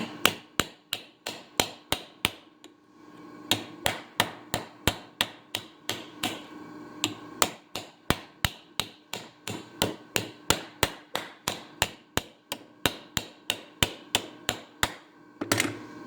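A hand hammer strikes a rivet set on a 3/16-inch truss head rivet, 3/8 inch long, in sharp, evenly spaced blows, dozens of crisp close taps with brief pauses between runs.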